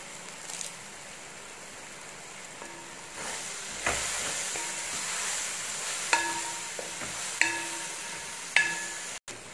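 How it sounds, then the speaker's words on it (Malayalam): Curry leaves dropped into hot oil with onion and garlic give a steady close hiss and sizzle, swelling partway through, with a few sharp clinks of a spoon against the pan. "ഇതിലോട്ട് നമുക്ക് എടുത്ത് വെച്ചിരിക്കുന്ന കുറച്ച് കറിവേപ്പില ഇട്ട് കൊടുക്കാം"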